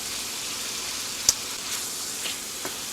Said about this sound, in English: I'm gonna go ahead and let this cook, fry